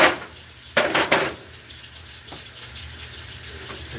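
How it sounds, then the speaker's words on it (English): Cold water running from a kitchen tap, a couple of short gushing bursts followed by a softer steady trickle, close by with light kitchen clatter. "Turn some more cold water on,"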